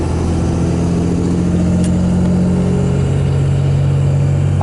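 24V Cummins diesel truck engine idling steadily while warming up, a loud, close, even rumble with a constant low drone and no talk.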